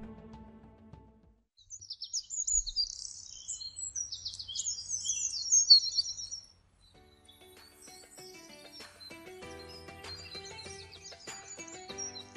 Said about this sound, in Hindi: जब हम इतनी दूर से पक्षियों की आवाज सुनते हैं तो हमें कितना सुकून मिलता है